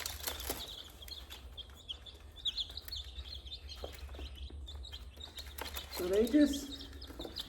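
Faint chirps and soft clucks from small chickens come and go at low volume, with a louder cluck near the end and a brief voice speaking.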